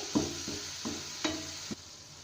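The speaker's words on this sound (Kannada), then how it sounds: "ಇದರಲ್ಲಿ ಆಲ್ರೆಡಿ ತುಪ್ಪ ಇರೋದ್ರಿಂದ ನಾನು ಹಾಗೇನೆ ಹಾಕಿ ಫ್ರೈ ಮಾಡ್ತಾ ಇದ್ದೀನಿ" Sapota paste frying in ghee for laddu, with a soft continuous sizzle and a few sharp spoon-scrape knocks against the pan, close and fairly quiet.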